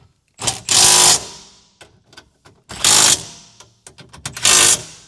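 A power tool with a 10mm socket drives bolts while low-profile drawers are installed in a Toyota 250. It gives three loud buzzing bursts, each about half a second long, separated by quieter ratcheting clicks and handling knocks.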